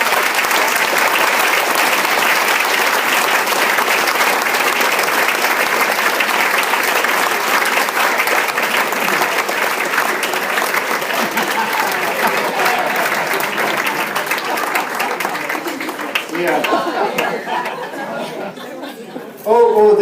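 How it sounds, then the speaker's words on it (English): A crowd breaks into sustained applause lasting nearly twenty seconds, dense and even, with chatter and light chuckles mixed in before it thins out and a voice and noises emerge near the end. "I want to give her a couple of applause."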